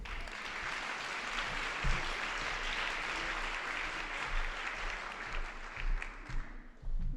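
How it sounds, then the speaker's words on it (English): An audience applauds a speaker at an education talk, steady moderate clapping from a room of people that swells and dips slightly, somewhat distant and alone without speech. "Give her a warm applause, Bo Meinet."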